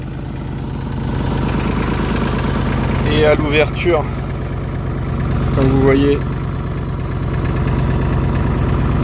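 A McCormick D324 tractor engine idles steadily and fairly close in a field being sown with sunflower and clover, its low throb running continuously under someone speaking French.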